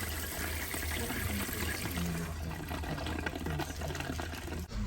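Fresh water running through a boat's plumbing pipes during a haul-out refit, a steady continuous trickling flow heard close and alone throughout.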